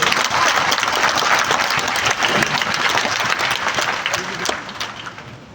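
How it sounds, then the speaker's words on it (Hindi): A large crowd at a political gathering in Bihar applauds loudly, a thick continuous roar of clapping that stays strong for several seconds and then gradually tapers off. "बार अपने लिए जोरदार ताली बजाइए।"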